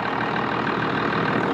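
A Cummins 12-valve diesel in a five-speed truck runs at a steady idle, a close, even mechanical rumble that holds without change and with no voices.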